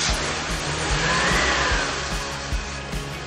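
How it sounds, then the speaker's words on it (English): A classic car engine runs after a 123\TUNE+ ignition fit, a close, steady mid-pitched hum with a few small rev swells and low thumps. "now that the engine is running"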